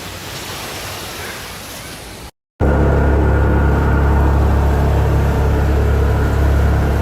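Ocean waves at El Nido beach, a dense continuous surf roar that cuts out abruptly for a moment, then returns louder and closer with strong low rumble.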